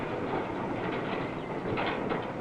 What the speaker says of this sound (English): 2 flat trucks with wire drums on them, paying out the wire as the train moves slowly forward.